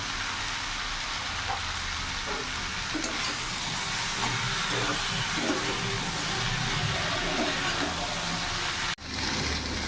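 Fried eggplant sizzling and being stirred in a hot pan, a dense continuous hiss with soft scrapes and one sharp knock near the end.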